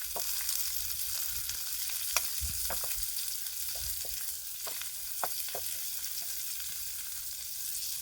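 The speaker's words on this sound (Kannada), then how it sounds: "ಆನಿಯನ್ ಸ್ವಲ್ಪ ಫ್ರೈ ಆಗಲಿ." Onion frying in a pan for moringa egg bhurji, a continuous close sizzle with scattered light spatters and occasional utensil taps, no speech over it.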